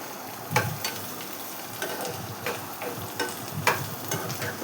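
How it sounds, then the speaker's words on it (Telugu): Cluster beans (guar beans) frying in a pan for a curry, with soft, steady sizzling and occasional stirring scrapes, fairly quiet and close, no voices. "గోరు చిక్కుళ్ళు ఫ్రై అవుతున్నాయి"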